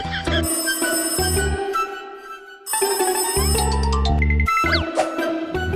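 A melodic electronic ringtone plays loudly, pausing briefly and then repeating with a fuller bass line and chiming tones.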